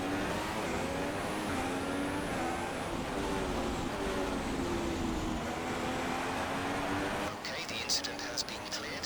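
F1 race cars in F1 2016 at the Hungarian Grand Prix pulling away after the safety car, engines rising and falling in pitch as they accelerate, loud and continuous, with a brief burst of clicks near the end.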